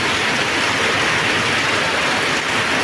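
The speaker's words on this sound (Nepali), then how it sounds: "पानी पऱ्यो असिना झर्यो," Heavy downpour with hail also falling, a dense, loud, steady roar of rain that stays constant throughout with no pauses.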